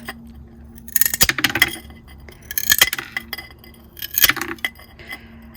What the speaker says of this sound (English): I nip off the corner first, and then I come in and cut the curve.